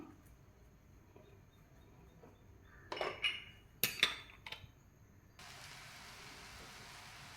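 Poha butter murukku dough going into hot oil: a few metallic clinks and taps first, then a steady, even frying hiss that starts abruptly and holds, close and fairly quiet.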